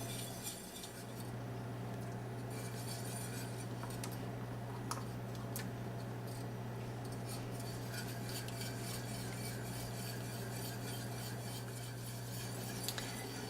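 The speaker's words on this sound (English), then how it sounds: "we're just going to stir it until it melts and then add more cubes" Butter cubes being stirred into a bourbon beurre blanc sauce, with a soft steady utensil scraping and occasional faint clinks against the pan over a constant low hum, no talking.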